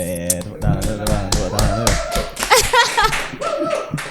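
Scattered clapping from a small group after a poetry reading, mixed with voices and laughter talking over it.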